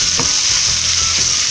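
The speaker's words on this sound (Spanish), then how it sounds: "Se escucha cómo se está friendo ya el ajo, la cebolla, el ají colorado, el ají especial y este delicioso tocino" Garlic, onion, red chili peppers, special chili and bacon fry loudly in a pan for a Peruvian lima bean dish, giving a dense, continuous close sizzle with a few brief stirring knocks.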